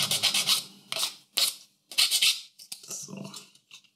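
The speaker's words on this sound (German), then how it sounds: "Auch hier kurz mit der Feile drüber." A hand file rasps across a Kadee model railway coupler in short, close strokes, several quick scraping bursts separated by brief pauses.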